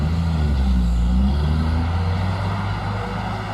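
A Mitsubishi Fuso truck with a 195 engine labours along hard dirt, its deep engine drone loud and close, rising briefly then settling into a steady low rumble.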